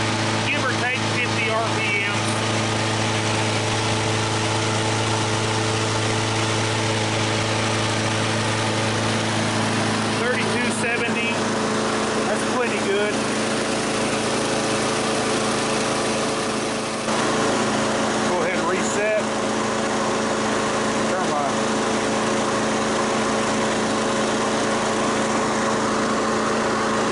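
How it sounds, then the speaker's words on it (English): A single-cylinder small engine runs at a steady idle, a continuous close buzzing hum with a few faint clicks and handling noises over it. A voice speaks briefly. "cycle, single cylinder, and then we can do it"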